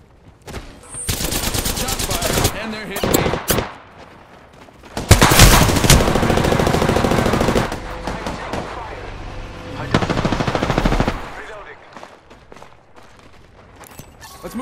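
Bursts of video-game machine gun fire, loud and close, come in several sustained volleys with short pauses between, heaviest in the middle, alongside scattered single shots and brief low voice chatter.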